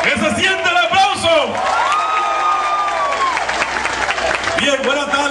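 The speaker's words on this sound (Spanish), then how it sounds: "¡Que se siente el aplauso!" Applause and cheering from a crowd at a political rally in Santo Domingo Este, loud and steady throughout, with shouts, whoops and voices mixed in and a long sung or shouted tone over the middle.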